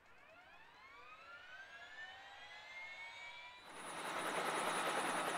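In a video game, a helicopter sits on a rooftop heliport, its rising whine building into a loud, steady rotor roar toward the end, with no talk.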